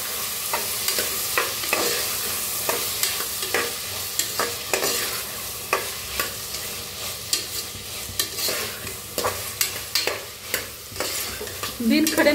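Potatoes stir-frying in a pan for masala rice, with a continuous sizzle under repeated sharp scrapes and knocks of a spoon against the pan at an irregular, steady pace; no talking.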